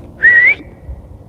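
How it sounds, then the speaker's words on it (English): A single rising whistle sounds in the haunted woods of northeast Ohio, a clear, steady tone lasting about a third of a second over faint low rumble, with no talk. "Thought I heard the whistle again."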